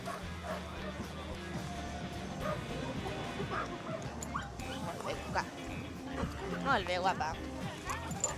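A dog wearing a special running harness whimpers and gives short, high yips and barks close by, while a person talks softly over the dog's excited cries.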